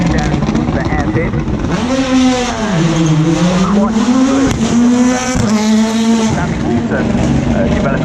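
Rally cars at Wales Rally GB 2019 in Colwyn Bay rev hard through a hairpin section, the loud engine note rising and falling with gear changes and tire squeal, under a commentator's voice.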